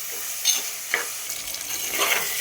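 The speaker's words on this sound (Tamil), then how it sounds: "நல்லா தக்காளி வதங்கட்டும்" Tomatoes sauté in a pan for a prawn gravy, with a soft, low sizzle under a few scraping stirs of a spoon, close by and fairly quiet, with no one speaking.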